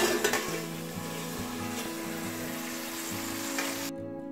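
A lid comes off a pan of spring onion, potato and cauliflower that is frying steadily, a close, even sizzle with a few clanks at the start that cuts off abruptly just before the end.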